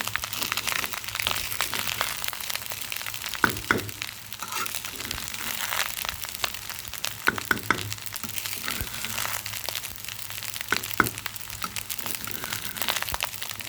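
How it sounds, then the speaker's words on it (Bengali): Rice stir-fried in a pan with onion, carrot and egg gives a steady crackling sizzle, with scattered sharper scrapes and clatters of stirring throughout, alone with no voices. "ভাতটা পেঁয়াজ, গাজর, ডিমের সাথে ভালোভাবে মিক্স করে নিব।"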